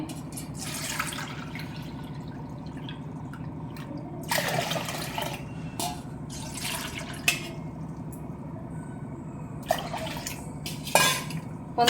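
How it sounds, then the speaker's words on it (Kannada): Water pours and splashes into a bowl of chana dal in a few short bursts, with light clinks of dishware between them over a steady low background hum. "ಬೇಳೆ ತೊಗೊಂಡಿರೋ ಬಟ್ಲಲ್ಲೇ ಎರಡು ಅರ್ಧ ಬಟ್ಲು ನೀರು ಹಾಕೊತೀನಿ"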